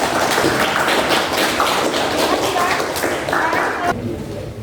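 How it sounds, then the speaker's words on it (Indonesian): A class group claps hands together after a group presentation, producing a dense, loud burst of clapping mixed with chatter and voices before it stops abruptly near the end. "Kita berikan tepuk tangan untuk kelompok."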